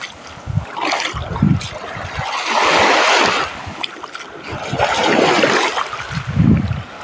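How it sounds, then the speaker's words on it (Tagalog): Gentle Red Sea waves wash onto a beach in soft, rolling surges of rushing water, rising and fading at a moderate distance with no talk. "medyo di masyado maingay ang dagat. Ano? Mahina lang yung alon"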